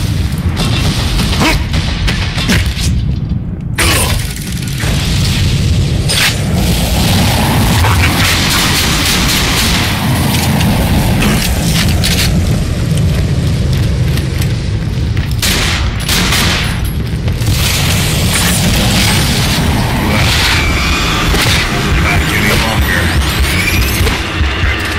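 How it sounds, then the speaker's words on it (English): Grenade blasts and gunfire in Borderlands 2 pound almost continuously, loud and close, in a dense barrage of booms and crashes with little letup. "My fucking grenades."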